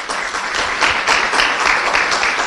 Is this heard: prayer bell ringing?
no